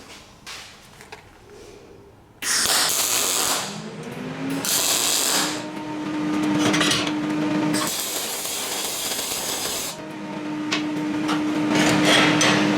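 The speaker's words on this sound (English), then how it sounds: "We set the MIG up. Let's give it a little go at welding." MIG welding 3mm steel coupons with a Parweld XTM 211DI multi-process welder: after a quiet start, loud continuous crackling arc bursts run for several seconds each, with brief breaks between weld runs and a steady machine hum underneath.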